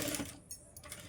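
A sewing machine stitches blouse fabric in a brief, quiet whirring burst that stops and restarts within about a second.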